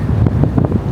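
Cold, gusty wind buffets the microphone on an early-morning run across a bridge in Nashville, a low rumbling roar pulsing in uneven bursts throughout with no one speaking.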